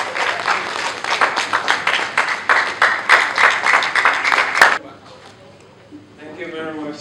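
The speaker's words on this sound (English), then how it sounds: "Please give them a round of applause." An audience claps in sustained, dense applause to welcome the hosts at a stage event, loud and steady for about five seconds before cutting off abruptly, followed by quieter room sound and a voice starting to speak.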